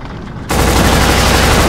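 Enemy gunfire in the video game Black on PS2: a sudden, very loud burst of rapid automatic shots that keeps roaring steadily after a short quieter lead-in.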